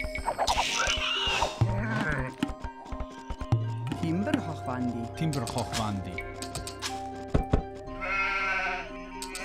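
Sheep bleat repeatedly in Age of Empires 2, several short wavering calls scattered among clicks and game sound effects, with someone talking over them.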